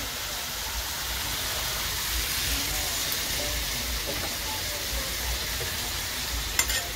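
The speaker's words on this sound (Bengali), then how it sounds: "আবার লাড়াচাড়া করে দেব।" Chicken curry with marinated chicken simmers in a pan after a little water is added, giving a soft, steady sizzling hiss while it is stirred, with a faint clink near the end.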